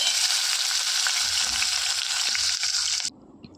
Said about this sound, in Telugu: చూడండి ఉల్లిపాయలు కొంచెం వేగనిద్దాము